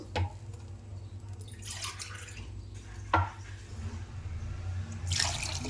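Water poured from a glass into a cooking pot for alu pulao, in a few separate splashing bursts of pouring with quieter gaps between, close by and moderately loud.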